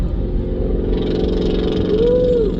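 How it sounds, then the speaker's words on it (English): An S550 Ford Mustang with loud exhaust revs hard and loud, its deep exhaust roar rising and falling steadily, with a rumbling low drone throughout. "we have an S550 Mustang in front of us that is revving. It's got really loud exhaust."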